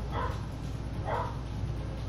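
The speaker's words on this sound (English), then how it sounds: "One of my dogs just decided to bark because he got bored." Two distant, muffled barks from a bored dog indoors, spaced about a second apart, faint beneath a constant low background hum.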